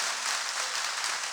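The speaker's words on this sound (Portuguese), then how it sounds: "Pode dar uma salva de palmas?" Congregation applauding at an evangelical church service, a steady dense wash of clapping from many hands filling the hall, fairly quiet and continuous with no speech over it.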